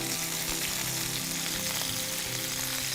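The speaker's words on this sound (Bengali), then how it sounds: "আমরা এখানে রসুন কুচিটা দিয়ে দিচ্ছি, ঠিক একসাথে নেড়ে দিব" Chopped garlic fries in a hot pan of oil, a steady close sizzle filling the whole moment with faint stirring scrapes underneath.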